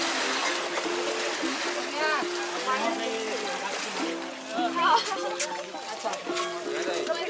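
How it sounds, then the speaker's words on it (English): Elephants splashing water during their daily bath in Chitwan National Park, Nepal, with steady, close splashing and trickling throughout and people talking over it. "where the elephants got their daily bath"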